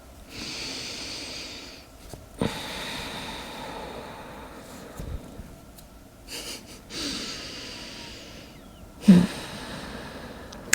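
Deep, slow breaths drawn in and let out during a seated yoga spinal twist stretch, soft and close with a few sharper inhales and exhales and no talking.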